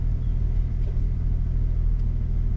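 A Ford Raptor truck engine idles and is given a little throttle on an off-road rock trail, producing a steady, loud, low rumble that swells only slightly.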